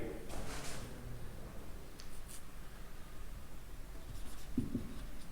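Pen writing on paper during a maths lesson on circles, with a few scratchy strokes and rustles at close range under quiet room noise.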